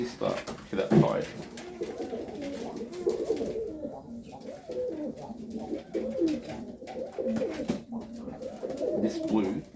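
In a backyard loft, Serbian Highflyer pigeons keep up low, rolling coos beneath someone talking close by, with a brief louder burst near the start.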